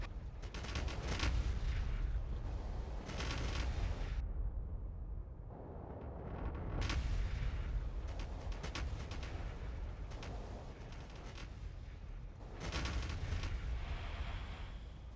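Massed artillery shells firing in the factory-building game Factorio, a dense, continuous rumble of overlapping booms and blasts in loud surges with brief lulls between.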